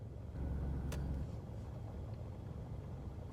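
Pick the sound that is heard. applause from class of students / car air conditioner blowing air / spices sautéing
car air conditioner blowing air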